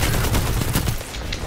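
An auto rifle fires a loud, dense, continuous stream of shots in the video game Destiny 2, filling the short stretch with no speech.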